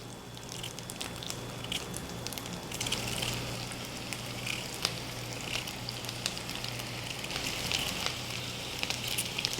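Bacon and potatoes sizzle in a skillet with a steady, bright frying hiss and scattered small spits and pops, close and continuous throughout.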